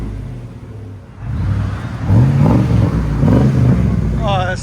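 A 2002 Chevy Express 1500 van with a 5.7L V8 and Flowmaster FlowFX exhaust revs up after a quiet idle, a deep loud engine roar rising and holding in a couple of surges, close by.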